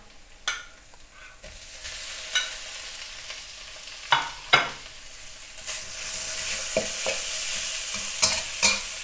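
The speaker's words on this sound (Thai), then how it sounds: "ผัดหมูให้สุกก่อนนะคะ" Minced pork stir-fries over medium heat in a pan, a sizzle building louder and hissier over time, punctuated by repeated sharp spatula scrapes and clacks against the metal; no one speaks.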